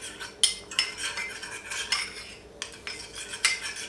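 A spoon clinks and scrapes rapidly around a bowl, stirring starch into a little water; close, bright metallic taps and swirls come in quick irregular bursts with no voices.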